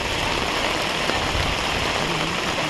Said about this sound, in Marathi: सकाळी पण काही थांबला नाही पाऊस कोसळतोच आहे